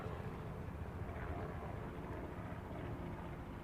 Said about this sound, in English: Oh, scary copter